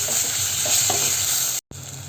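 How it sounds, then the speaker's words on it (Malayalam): Tomatoes and masala with curry leaves stirred and frying in a pan for a dried prawn and snake gourd curry, a steady close sizzle with scraping stir sounds and a brief dropout near the end. "അതുവരെ ഒന്ന് നമുക്ക് ഇളക്കി കൊടുക്കാം."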